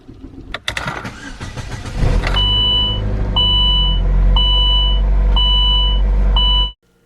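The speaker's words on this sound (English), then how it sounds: "the car started up" Saab car engine starting at close range, with a cranking burst that settles into a steady idle while a repeated electronic chime beeps at regular intervals, then the sound cuts off abruptly.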